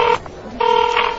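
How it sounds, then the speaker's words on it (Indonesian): Telephone keypad tones beep as someone dials the boss: two clear, fairly loud dialing tones, the first brief and the second held longer, with a short gap between them. "telepon bos dulu deh"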